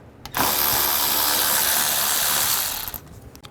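Close ratchet wrench with an 8mm socket removing bolts from a 2009-2010 BMW 535i xDrive 3.0L L6 engine bay, one steady whirring run of about two and a half seconds, loud and near with no talk.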